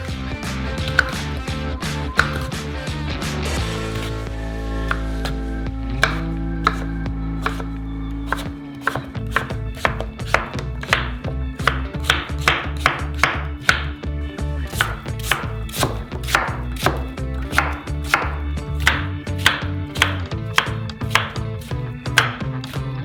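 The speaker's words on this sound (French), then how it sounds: "On coupe tous nos petits fruits en dés." A knife chops small fresh fruits into dice on a cutting board, with sharp, rapid knocks in a steady rhythm that continue close up and alone.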